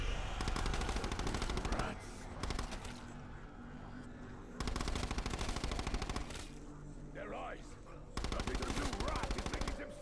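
Rapid automatic gunfire in a video game rattles in loud sustained bursts separated by short lulls, with a faint voice briefly audible in a quieter gap.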